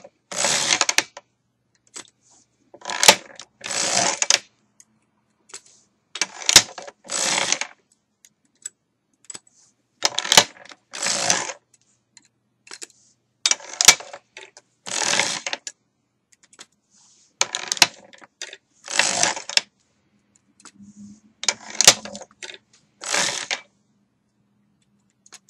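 A hand-cranked sock knitting machine knits a hung heel, giving off rhythmic bursts of close, crisp clattering clicks in short groups with brief pauses between. No one speaks.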